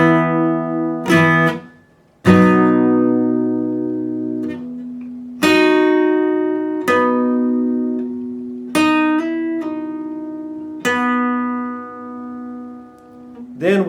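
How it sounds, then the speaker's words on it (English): Electric guitar playing the second verse part of a song slowly, a sequence of separate plucked notes and double-stops, each ringing out clearly before the next, with no accompaniment. "So far, part 1 played slowly is going to sound like this."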